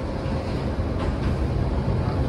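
Rumble from inside a moving Tatra tram in Oradea, a steady low roar of wheels and motor with a faint rattle, continuous and fairly loud throughout.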